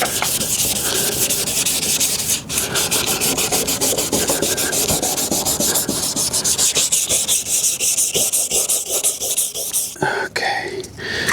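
Sandpaper rubs back and forth on a foggy car headlight lens in close, rhythmic strokes that continue without a break for about eleven seconds.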